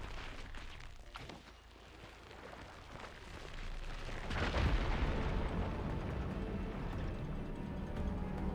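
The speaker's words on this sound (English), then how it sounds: "Igniting that fire gleam should clear it." A fire gleam blows apart rubble in Horizon Forbidden West. Early faint thuds lead into a loud, sustained roaring blast with crumbling debris that keeps rumbling to the end.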